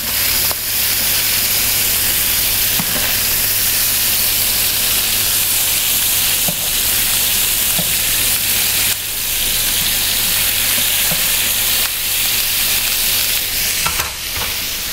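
Kupati sausages fry in a pan with a steady, close sizzle and hiss that runs throughout, broken by occasional soft clicks and stirring noises.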